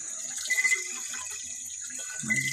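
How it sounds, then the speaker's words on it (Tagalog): Water flowing from a hose, a soft and fairly quiet trickling splash that swells slightly near the start and again at the end. "nagagasa pa ang tubig"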